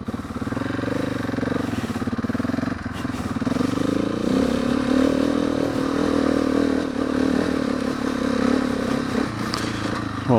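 A Yamaha WR motorcycle engine revs and drones continuously, close and loud, its pitch rising and shifting as it accelerates.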